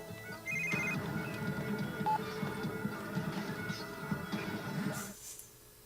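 A telephone rings in The Sims 3 life-simulation game, a steady electronic ring pattern over busy game music and ambient effects, ending abruptly near the close.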